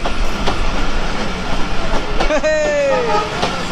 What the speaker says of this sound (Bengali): এই যে মহানন্দা এক্সপ্রেস ট্রেন আসতেছে দেখুন